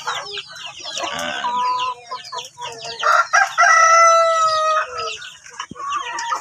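Rhode Island Red chickens on a Philippine chicken farm, with a rooster crowing loudly and clearly over steady clucking and chatter from the flock, several calls overlapping at close range.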